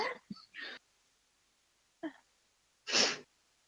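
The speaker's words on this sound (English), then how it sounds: "The sneeze shook it out of your head." A single close, sharp sneeze bursts out after a couple of small breathy intakes and short vocal sounds.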